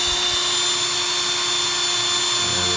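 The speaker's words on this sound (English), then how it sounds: "We're just going through with a hard plate bit now." A power drill with a hard plate bit grinds steadily through the hard plate of an old Securefast mortice lock, loud and close, with a constant high-pitched whine throughout.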